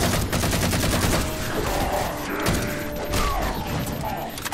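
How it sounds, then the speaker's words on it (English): Heavy, deep gunfire in the video game Halo 4: rapid automatic bursts and thumping shots layered with mechanical clatter and explosions, dense and continuous, with faint voices underneath. "the gun sounds sound, like, so deep and proper"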